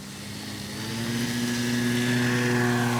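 A CNHL Bison XT RC airplane takes off from a freshly cut grass field with flaps set, its electric motor and propeller giving a steady, close buzzing drone that swells gradually over a few seconds.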